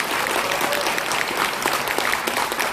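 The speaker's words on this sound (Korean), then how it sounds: "우리 윤용진 변호사께 다시 한번 큰 박수 부탁드리겠습니다." Applause from a seated audience at a Korean public event, a steady dense clatter of many hands clapping at close range for a few seconds, with no one speaking over it.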